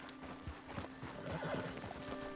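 Horse hooves clop in an uneven rhythm over a steady background hum, with a faint whinny mixed in, in the video game Red Dead Redemption 2.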